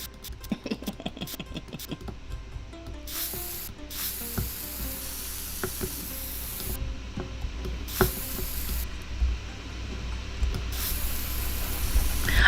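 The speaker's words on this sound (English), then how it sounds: "I also love the spray paint sound of this." Repeated bursts of spray paint from The Sims 4, bright hissing blasts a few seconds long that start and stop over soft background music and game clicks.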